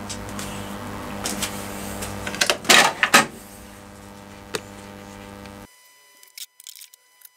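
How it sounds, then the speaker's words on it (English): A hand tap cuts threads into four holes of a rear bearing carrier for a mini Caterham build, giving a few brief scraping clicks and creaks in a quiet workshop, with a louder cluster midway and short taps near the end. "I'm just going to tap these four until I work out how the brake caliper will fix."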